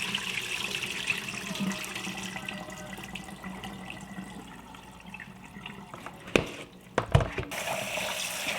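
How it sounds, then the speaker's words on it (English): Long grain parboiled rice is rinsed under a running kitchen tap, water pouring steadily into the grains with sloshing and a couple of sharper splashes near the end as it is swirled. "So I'm just gonna wash my rice multiple times to get rid of all the starch right there, just like that."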